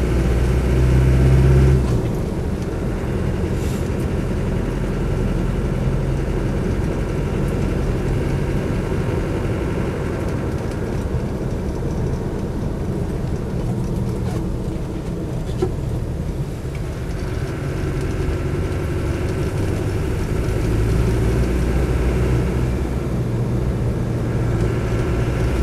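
A Land Rover 90 with a 200Tdi diesel engine pulls steadily while driving on a muddy route, a loud continuous low-pitched drone with cabin rumble that holds nearly constant throughout.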